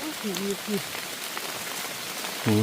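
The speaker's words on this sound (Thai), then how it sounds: "ฝนก็มา" Rain falls steadily through a forest during wild mushroom foraging, a soft continuous hiss of drops on leaves, with brief voices speaking over it at the start and end.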